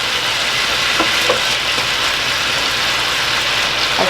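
Chunks of beef heart browning in a big skillet make a steady, even sizzle that fills the clip, with a few faint stirring clicks and no talking.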